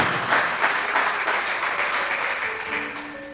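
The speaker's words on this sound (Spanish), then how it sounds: "Dele ese aplauso al Señor, se lo pido." A church congregation applauds during a Spanish-language sermon, a dense sustained round of clapping that tapers off as a sustained tone rises underneath.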